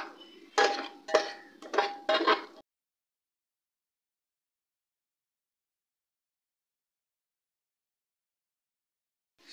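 Mutton being stirred and fried in a pan with a spatula, giving a few close, clattering scrapes and knocks in quick succession over about two seconds, then silence.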